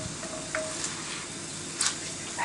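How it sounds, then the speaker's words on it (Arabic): Carrots, onion and celery sautéing together in a pot: a steady close sizzle and hiss of frying vegetables, with a couple of brief stirring scrapes, no voices. "غنسوطيو هاد الخضر هذه مع بعضياتها"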